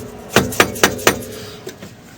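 A spanner wrench is tapped against the adjustment collar of a Powertrix coilover. There are four sharp, evenly spaced metallic knocks close by, then one fainter tap.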